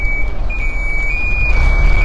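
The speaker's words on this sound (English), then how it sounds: "You hear the beeps? That's the safety mechanisms on our Broderson, our little crane." A high-pitched electronic safety beep from a small Broderson crane sounds repeatedly over a low, steady machine engine rumble nearby.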